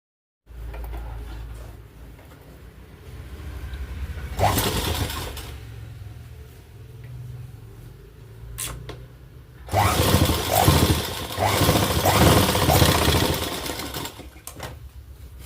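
Sewing machine stitching a blouse, running in steady bursts of rapid mechanical whirring close by, with short pauses between runs and a louder stretch of stitching toward the end.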